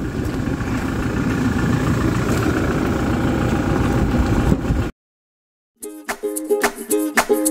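Car engine idling at a petrol station in a small town, a steady low rumble for about five seconds that cuts out abruptly, then silence and a few sharp tonal sounds.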